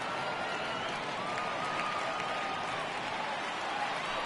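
Steady, dense crowd roar from a stadium in MLB 18 The Show, with fans rising and cheering for a full count, a continuous wash of noise with faint whistles riding over it.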